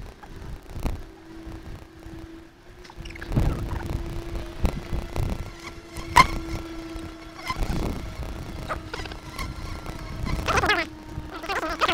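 Honey bees hum steadily at an opened hive during a May inspection, a soft, continuous drone near the frames, broken by scattered knocks and handling clatter from the beekeeper's work.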